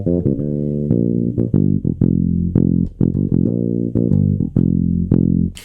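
A Sire Marcus Miller V7 vintage fretless bass strung with flatwounds plays with the tone rolled off, a run of about a dozen round, muted low notes, plucked one after another in a loose rhythm, up close with no voice.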